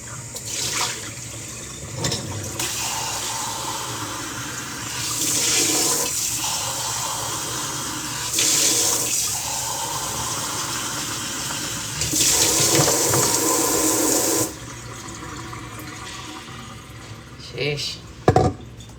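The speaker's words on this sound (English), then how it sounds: "I'm gonna wash this now because it doesn't go well with the little gears." Running tap water splashes over an item being washed, a loud close gush that swells and fades in several bursts as the item moves under the stream, with a voice briefly in the background.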